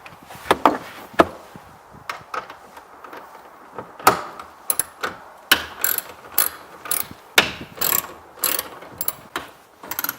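Ratchet wrench fitted with an 8mm socket backing out the tail light bolts on an Acura TL, with repeated sharp clicking bursts close by and short pauses between strokes, and no talking.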